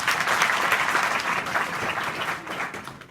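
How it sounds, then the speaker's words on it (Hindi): Schoolgirls at a higher secondary school applaud during an adolescent education session, a dense, continuous round of clapping from a full room that holds steady throughout. "तो एक तो ताली बजाओ अपने लिए पहले।"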